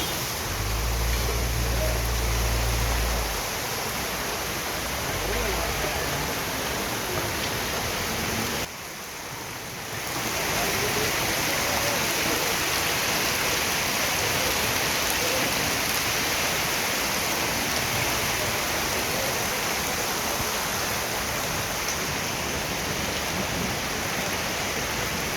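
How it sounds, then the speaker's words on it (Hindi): Heavy rain pours down during a hailstorm in Murree, a dense, loud, continuous hiss of water with a low rumble at the start and a brief dip partway through. "बहुत तेज़ बारिश हो रही है भाई"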